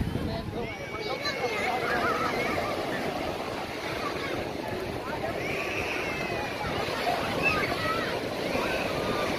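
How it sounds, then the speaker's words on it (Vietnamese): Sea surf at a beach below Nghinh Phong Tower in Phu Yen, a steady wash of waves mixed with wind buffeting the microphone, with a crowd murmuring faintly in the background. "Phía dưới này là biển, phía dưới này là biển ha"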